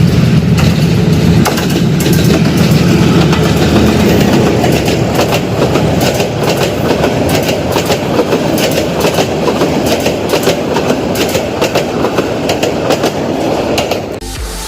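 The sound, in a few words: small five-car local train passing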